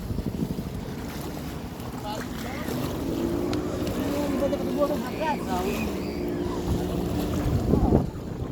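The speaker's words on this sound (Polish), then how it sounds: "To jest skuter wodny." Engine of a jet ski idling and rumbling on the water, with wind buffeting the microphone and faint voices nearby.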